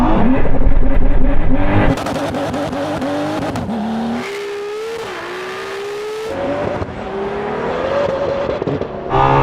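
A Ferrari SP3 and a Pagani Huayra launch together at a race start, engines roaring loudly and close with rising revs through several gear changes and brief tire noise.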